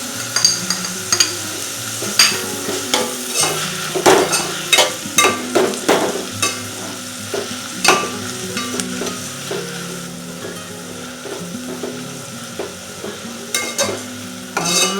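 Ginger and tomatoes sautéing in a pan for tomato rice, with a steady sizzle under repeated rhythmic scraping and knocking of a spoon stirring the pan, the strokes coming close together and then easing off toward the end.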